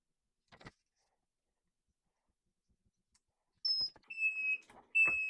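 A Vevor 8-in-1 heat press timer, set for ten seconds at 270 degrees Fahrenheit for polyester, gives a few thin electronic beeps near the end after quiet and scattered clicks, fairly faint and clear with no speech.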